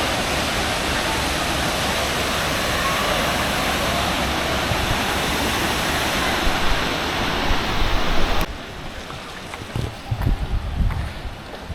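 Loud, continuous roar of Manimuthar waterfall in Tirunelveli, running low on water, heard up close as a steady rushing wash that abruptly drops to a quieter, rumbling level near the end.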